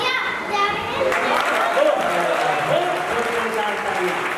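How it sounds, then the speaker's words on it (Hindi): Children at a school program applaud loudly and steadily, a dense wash of clapping with young voices chattering and calling over it throughout. "जोरदार तालियां।"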